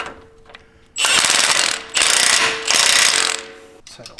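A ratchet tightens the reused factory flagged nut on a Jeep JL Wrangler steering tie rod, three loud rapid clicking bursts close up, separated by brief pauses.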